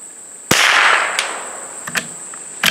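Sharp single report of a CZ 455 .22 LR varmint thumbhole rifle fired outdoors at a distant steel plate, loud and close, with a short decaying tail and a faint metallic tick of the far hit following.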